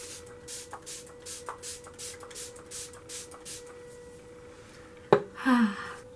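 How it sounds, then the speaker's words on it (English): MAC Fix Plus setting spray mists onto a face in a few quick hissing bursts near the end, after a stretch of soft rustling and shuffling. "I'm just going to spray myself down with some MAC Fix Plus."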